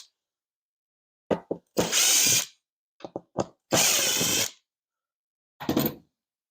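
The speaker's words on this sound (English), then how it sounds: "I'm just going to take out my hinge" Power drill backing hinge screws out of a kitchen cabinet in a shop, heard as several loud, close whirring bursts, some short and two longer, separated by silence.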